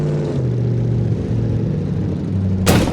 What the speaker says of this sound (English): The engine, it sounds like a jackhammer in a toilet.